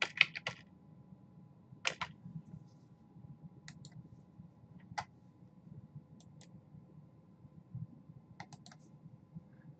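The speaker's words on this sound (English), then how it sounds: "I'm going to provide these notes that I'm typing for you" Keys clatter on a computer keyboard while notes are typed, with several scattered bursts of soft clicks over a steady low room hum and no talking.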